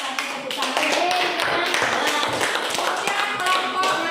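A school class claps for a group of students, giving quick, dense clapping from many hands that continues throughout, with voices in the room mixed in.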